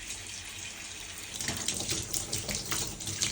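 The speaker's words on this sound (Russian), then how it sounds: "Вон тебе вода льется" Water pours steadily from a teapot during a nasal rinse, a continuous splashing stream that grows louder and more turbulent partway through, close and alone without speech.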